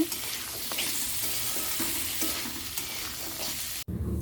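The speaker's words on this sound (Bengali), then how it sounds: "ফুলকপিটা আমি একটু সেদ্ধ করে রেখেছিলাম দিয়ে দিলাম কয়েকটা পনিরের টুকরো সব কিছু আরও একটু ভালো করে ভেজে নেব" Parboiled cauliflower and paneer pieces sizzle in a frying pan, a loud continuous crackle with steady stirring scrapes before a sudden cut.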